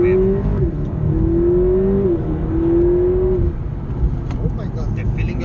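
A McLaren 650S sports car accelerates hard, its engine note climbing in pitch and dropping at each gear change, loud and close, with a voice talking over it.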